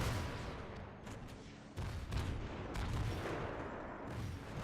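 Tank cannon fire in World of Tanks, a few distant booms and gunfire bursts over a constant rumbling background, quiet overall with no clear talk.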